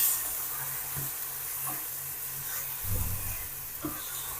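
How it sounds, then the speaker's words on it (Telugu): Spinach for palak paneer cooks in oil with no water added. It gives a soft, continuous sizzle, broken by a few dull stirring knocks and scrapes, one louder clatter near the middle. "ఆయిల్లోనే మనకి కూర అనేది పాలకూర బాగా మగ్గిద్ది"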